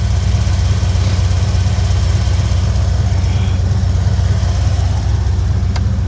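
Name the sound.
Ford engine running on high idle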